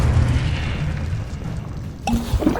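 A Confringo blasting spell in the video game Hogwarts Legacy sets off a loud, low rumbling explosion that fades, followed by a sharp crack and a smaller burst near the end.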